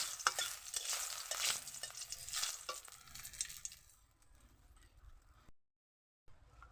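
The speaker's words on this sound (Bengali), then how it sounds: "লঙ্কাটা একটু ভালো করে ভাজা ভাজা হয়" Two dried red chillies frying in a little hot oil crackle and sizzle, with stirring scrapes, for a few seconds before the sound fades to a faint low hiss and briefly drops out.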